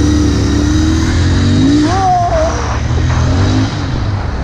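Royal Enfield Interceptor 650 motorcycle, 650cc, engine revving loud and close, with a rising and falling throttle pitch over a steady rumble and no talking.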